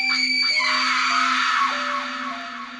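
A predatory scream sound effect for a post-apocalyptic horror story, one loud sustained shriek with a steady drone underneath that slowly fades over about three seconds.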